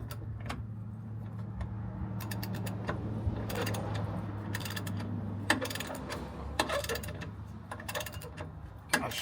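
An upper cab mount bushing on a truck creaks and squeaks in short bursts as its bolt is turned, with irregular mechanical clicks over a steady low hum, heard alone without talk.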